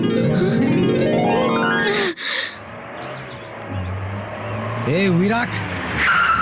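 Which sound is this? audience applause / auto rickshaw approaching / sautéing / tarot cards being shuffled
auto rickshaw approaching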